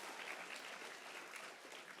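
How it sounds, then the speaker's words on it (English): Open mic performers at a student literature conference get a steady, continuous round of audience applause that runs the full length of the clip at a moderate, fairly distant level. "can I just get a big round of applause for all of our open micers?"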